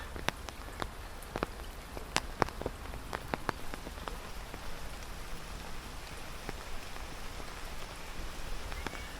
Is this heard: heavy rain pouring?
yes